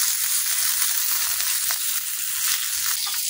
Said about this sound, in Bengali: আমার চেপা শুটকিটা কিন্তু ভাজা হয়ে গেছে